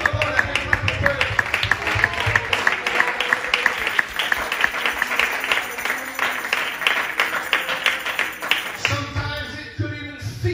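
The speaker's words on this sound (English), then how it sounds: "Let's give the Lord a hand clap of praise." A church congregation at a Wednesday night Apostolic service claps hands in praise, a sustained dense wash of applause with steady rhythmic clapping, lively room sound and some voices mixed in.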